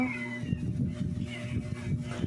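A cat meows in a small repeated series of short, fairly close calls with a tonal, slightly strained quality, heard with faint room background and no clear talk.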